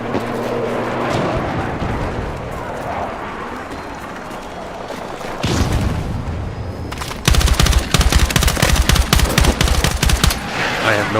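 Gunfire in the shooter Battlefield 6: distant, muffled shots and rumbling battle noise at first, then a loud, fast rattle of close automatic fire in sustained bursts toward the end.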